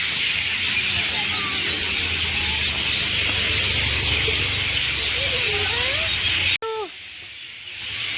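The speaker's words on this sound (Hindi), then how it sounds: "देखो चिड़ियों कितना शोर हो रहा है।" Many birds chirp and call noisily in a steady outdoor chorus, with scattered short calls over a constant hiss before it abruptly quiets.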